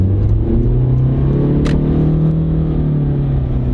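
A Honda car with a CVT transmission pulling away under light throttle, a steady droning engine note with a continuous low hum and a faint rise in pitch, heard from inside the cabin without talk.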